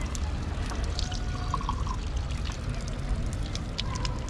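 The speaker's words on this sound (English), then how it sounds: "Let's try the local fountain water, which is drinkable" Drinkable water pours steadily from the lion's mouth of a public fountain in Szeged, Hungary, a continuous splashing stream heard close and fairly soft, alone without talk.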